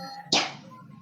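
A group of women playing a clapping game strike one sharp, single clap together, brief and crisp, over a quiet room.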